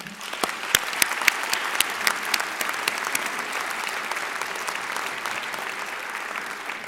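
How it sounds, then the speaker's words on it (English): A round of applause at a Founders Day university ceremony, a large crowd clapping steadily at moderate distance, with a few sharper individual claps standing out early and a sustained even roar throughout. "I think that needs a round of applause."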